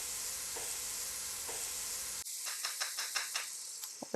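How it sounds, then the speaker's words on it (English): Garlic sautés in a pan over medium-high heat with a pinch of salt, a steady hiss at first, then sharper sizzling broken by a series of quick stirring scrapes and taps, close and clear with no talking. "Let the garlic get in there, saute it in, make sure your heat's at medium-high."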